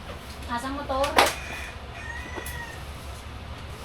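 A chicken crows outdoors with a few rising, harmonic calls around one second in, fairly close, while family voices and ambient noise carry on underneath.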